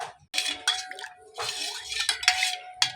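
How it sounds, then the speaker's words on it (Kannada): A spoon clinks and scrapes against a vessel while stirring homemade pani puri water mixed with pani puri masala and amchur powder. The taps and swishes come in short, irregular bursts, close and fairly clear. "ನೀಟಾಗಿ ಕಲಿಸ್ಕೊಳ್ಳಿ"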